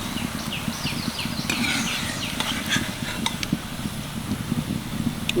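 Langcha sweets frying in hot oil and being lifted out, a steady sizzle with scraping and clinks of a utensil against the pan, close by and alone.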